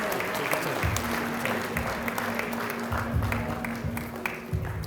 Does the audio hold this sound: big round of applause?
yes